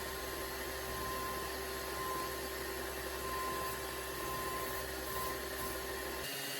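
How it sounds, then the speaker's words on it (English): A random orbit sander with 150-grit paper smooths a wooden home decor piece, giving a steady, loud whirring hiss that runs unbroken before cutting off just before the end. "I give it a good going over with the random orbit sander with about a 150 grit to smooth everything down"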